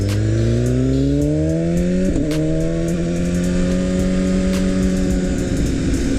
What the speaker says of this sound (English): right now the bike sounds awesome